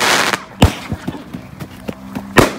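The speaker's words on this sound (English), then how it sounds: "Pumpkin fart fireworks?" Fireworks exploding in a horror-comedy video game: a quick series of sharp, loud pops and cracks at irregular intervals, with a brief faint tone between bursts.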